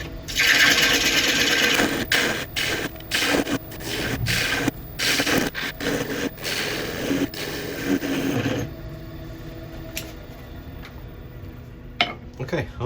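A woodturning lathe tool cuts away a tenon while the piece sits on a jam chuck, giving scraping, rasping bursts with pauses, then quieting into a faint hum near the end.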